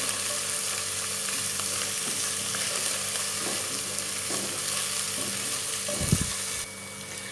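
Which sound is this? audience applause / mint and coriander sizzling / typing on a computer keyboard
mint and coriander sizzling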